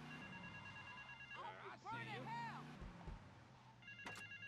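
A payphone rings in Grand Theft Auto: Vice City with a steady electronic ring, while someone talks over it at moderate volume and game sounds play around him.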